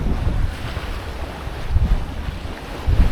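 A high-speed ferry passes a sailboat off the Greek island of Ithaca as a steady engine and wake rush blends with waves and heavy wind buffeting on the microphone, with swells in loudness but no talking.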